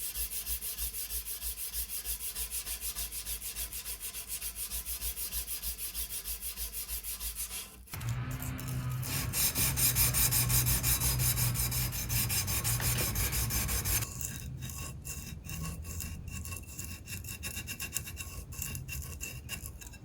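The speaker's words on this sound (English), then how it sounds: "every bladesmith's favorite part about making a knife: hand sanding" Steady, continuous abrasive scraping of hand sanding a twist Damascus Bowie knife blade, up to 320 grit, close and even, with a brief shift in texture partway through; no talking.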